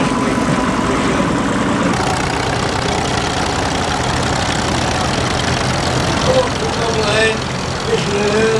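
An early 1931 Brookfield tractor with a Morris engine idling at a show, a steady low chugging rumble close by with a brief squeaky whine near the end.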